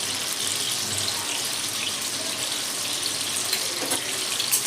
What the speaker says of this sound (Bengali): আমি যে আলুগুলো কেটে রেখেছিলাম সেই আলুগুলো আমি ছেড়ে দিলাম তেলে